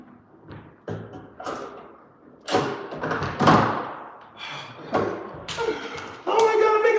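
A car's right-side door being fitted into its frame on the job, with repeated thumps, knocks and scraping slams of varying strength, while someone talks over the work.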